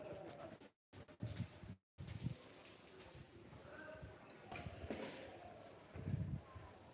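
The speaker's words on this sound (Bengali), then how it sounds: "এই যে কবুতর" Pigeons coo softly in the open air at Kantajew Temple, a few low murmuring calls mixed with faint voices and scattered ambient noise, with two brief dropouts early on.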